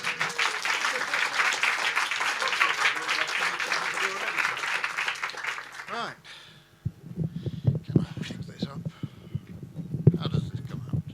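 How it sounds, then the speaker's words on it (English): A full round of audience applause roars steadily for several seconds, then drops away abruptly as a single voice starts speaking over a quiet room. "robust and excited round of applause, I think"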